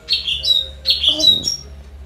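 Bright, high chirps from a lovebird come in short bursts, close and clear, with a brief lower squawk partway through.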